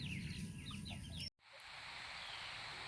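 Ameraucana chickens let out to mingle with a backyard flock give a quick run of soft clucks and chirps for about a second, then a steady outdoor hiss follows with no birds evident.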